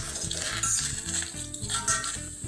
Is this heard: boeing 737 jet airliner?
no